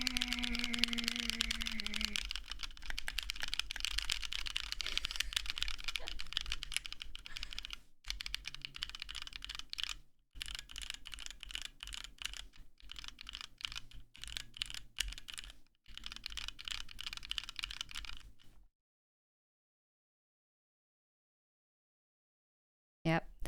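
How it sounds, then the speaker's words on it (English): Rapid keystrokes on a HyperX keyboard fitted with rubber keycaps, a dense clattering stream with a few brief pauses, close and fairly loud, stopping into silence near the end. "The rubber keycaps actually sound really cool."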